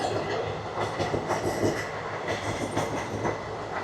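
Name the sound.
DEMU train passing on railway tracks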